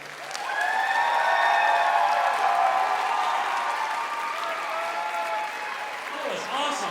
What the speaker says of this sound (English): We need a little bit more applause